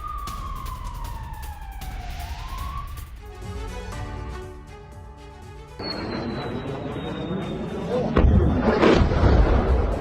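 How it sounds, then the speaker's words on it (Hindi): Over Kyiv, German IRIS-T air defence intercepts two Russian missiles: wailing, sliding siren tones rise and fall, then heavy booms and rumbling blasts build toward the end. "यूक्रेन ने एक साथ 2 रशियन मिसाइलों को उड़ाया है।"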